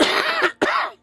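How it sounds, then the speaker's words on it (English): Two harsh coughs from one person, close and loud, the second following a brief gap, with no talk around them. "Pardon my cough."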